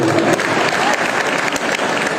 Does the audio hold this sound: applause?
yes